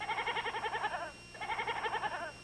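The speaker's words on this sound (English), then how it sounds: "Go get that goat out of here." A goat bleats twice in a row, each cry long, wavering and pulsing, loud and close, with a short gap between them and nothing else around.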